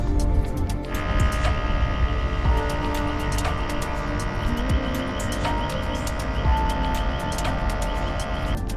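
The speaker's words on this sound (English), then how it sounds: "the extraction of the coffee will start in a moment" OutIn Nano portable espresso machine extracting coffee from a capsule or grounds, giving a steady mechanical hum and pump throb with a faint rattling buzz, close and continuous throughout with no talk.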